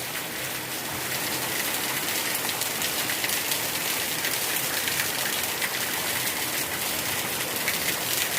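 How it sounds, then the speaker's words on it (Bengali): Even, steady rainfall patters on a surface in a dense hiss that holds level throughout, heard alone with no voices. "কি সুন্দর করে বৃষ্টি পড়ছে, দেখো কি সুন্দর বৃষ্টি"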